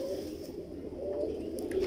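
A Lal Pari pigeon coos in a low, soft, rolling murmur, close by and continuous for a moment, with a faint chirp or two in the background.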